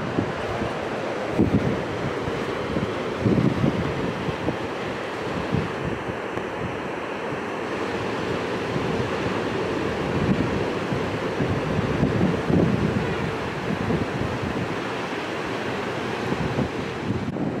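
Sea waves wash against a shore at low tide below stairs leading down to the water, with strong wind buffeting the microphone, making a continuous rushing roar with occasional louder surges.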